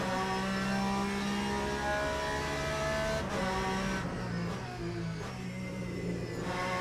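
A race car engine in the Le Mans Ultimate racing game drones and revs steadily with a rich harmonic whine, shifting pitch as it accelerates and changes gear, loud and continuous with no talking over it.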